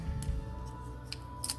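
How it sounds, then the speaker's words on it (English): Small travel scissors are handled close by, with a few quiet, sharp metallic clicks and snips spaced irregularly over a steady low hum, and no talking. "These are specifically travel scissors is what they said"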